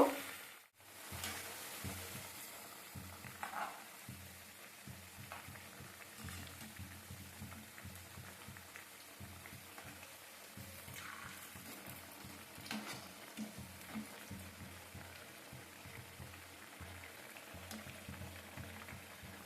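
Steady sizzling and crackling of gokul pitha frying in hot oil, continuous and fairly close, with occasional louder pops and no voices.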